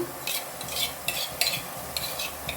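Tomato paste and ginger-garlic paste are sautéed in a pan for chicken curry, making a soft sizzle with repeated light scraping strokes of a spoon, close and fairly quiet.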